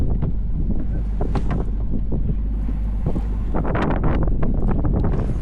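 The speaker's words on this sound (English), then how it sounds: "We just dropped the sails and the wind's got up." Strong wind gusts buffet the microphone aboard a sailboat at sea just after the sails are dropped, a continuous loud roar with surging bursts and water rushing beneath, no voices.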